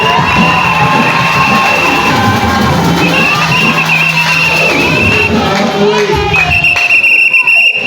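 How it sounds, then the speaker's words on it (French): A church congregation at a Friday evening worship service at the Tabernacle cheers and acclaims, a loud, sustained wash of crowd voices with shouts and whoops over steady musical tones. "Acclamons pour la gloire de notre Dieu."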